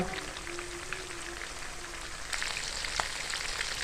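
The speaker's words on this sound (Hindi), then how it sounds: "इधर हमारी फिश फ्राई हो रही है।" Fish frying in a pan for Arabic fish majboos, a steady close hiss and crackle of hot oil throughout, with a brief clink near the end.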